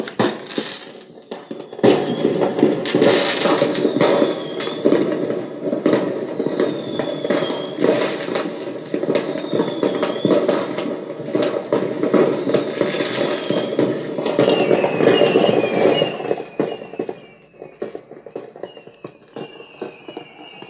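A smart speaker plays a firework sound effect at loud volume. It gives sustained dense crackling and rumbling with faint whistling rises, fairly steady for about fifteen seconds before thinning out, with no voices over it.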